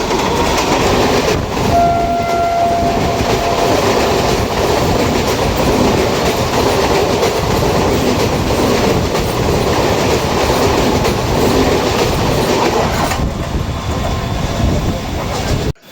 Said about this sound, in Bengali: সামনে দিয়ে আসছে শিয়ালদহ বনগাঁও লোকাল